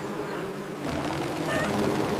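Cartoon bees buzz in a continuous, slightly wavering drone that swells a little louder toward the end.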